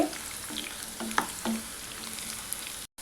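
Raw banana slices fry in oil over a high flame with a constant crackling sizzle, punctuated by a few light clinks and scrapes of a spatula, close and unaccompanied by speech, cutting off briefly near the end.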